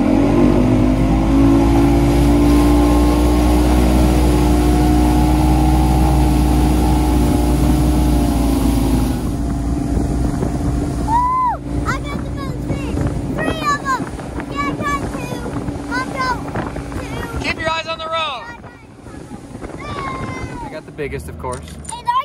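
A motorboat engine drones steadily and loud on a lake after bass fishing, with wind buffeting the microphone; later people talk and laugh over the running motor.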